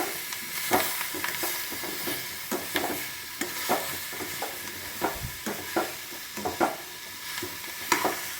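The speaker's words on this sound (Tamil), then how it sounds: "நல்லா கிண்டி விடுங்க ஒன்று போல்." Sweet potato stir-fry (seenikilangu poriyal) being stirred in a pan: repeated scraping and tapping strokes of a utensil over a steady sizzle, close and fairly loud, with no talking.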